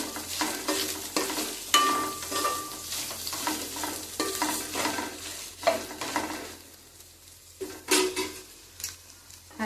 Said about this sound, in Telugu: ఉల్లిపాయ ముక్కలు, పచ్చిమిరపకాయ ముక్కలు, ఒకసారి కలుపుకుందామండి.